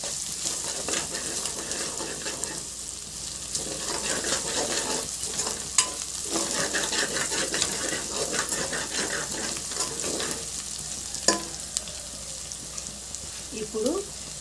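Ginger garlic paste fries in a pan with a steady, close sizzle, while a spoon stirs and scrapes through it at irregular moments and faint talk sits in the background.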